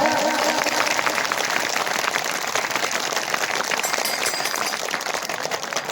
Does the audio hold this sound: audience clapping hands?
yes